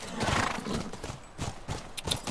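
A horse in The Last of Us video game, hooves clip-clopping in uneven beats with a short neigh, moderately loud and close, no talk over it.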